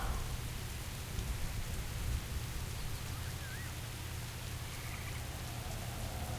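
Rain falls steadily in World of Warcraft: Battle for Azeroth, a dense, even hiss of drops on surfaces throughout, fairly loud and continuous with no voices.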